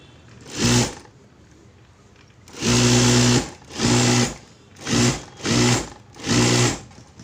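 Short bursts of an electric sewing machine stitching a puff sleeve: one brief run, then a longer one, followed by four quick runs, each a loud close whirring hum with pauses between.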